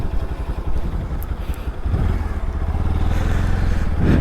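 Motorcycle riding along a road in Kerala, its engine a close, steady low rumble that grows fuller and more continuous partway through, with rushing wind noise and no talking.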